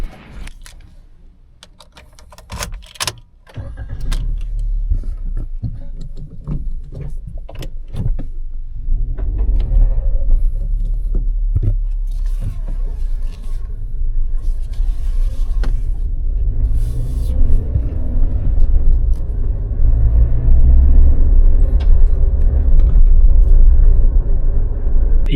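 A 2025 Suzuki Jimny is started with a few sharp clicks and knocks and pulls away, its engine and road rumble building to a loud, steady drone heard from inside the cabin.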